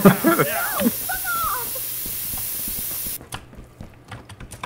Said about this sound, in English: pepper sprayed. I repeat, pepper sprayed